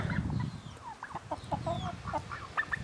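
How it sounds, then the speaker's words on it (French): Warwerk chickens, a young rooster and a hen, clucking and calling in short repeated bursts close by, with a low rumble of farmyard noise underneath. "Ici un petit coq Warwerk. Encore un. Là une poule."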